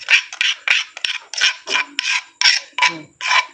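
Rhythmic rough scraping strokes, about ten of them in quick succession, close and fairly loud, like a utensil rasping against a stone mortar while making Thai eggplant soup.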